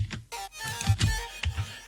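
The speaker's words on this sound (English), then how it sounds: "the drop also has this APREGGIO." An EDM drop synth arpeggio built from a Silent preset in FL Studio, B side: a busy run of bright, quick tonal notes over a thumping low end, close and fairly loud, with no talking.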